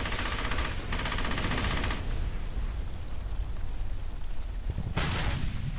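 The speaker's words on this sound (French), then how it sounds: "Il y a ce putain de canon qui nous fait chier là." A cannon and heavy gunfire in the World War II shooter Brothers In Arms: Hell's Highway, a dense, loud battle din with rapid automatic bursts at the start and a booming blast near the end.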